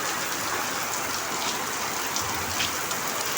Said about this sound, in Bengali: শুরু হয়ে গেল বৃষ্টি